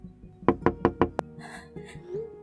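Five quick, sharp knocks on a door in an even rhythm, close and distinct, followed by a quieter stretch with faint background sounds.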